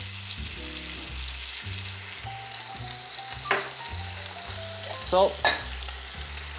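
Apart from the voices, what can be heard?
cherry tomatoes frying in olive oil in a pan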